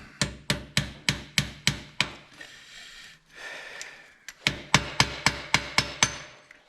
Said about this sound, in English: Okay, hammer time.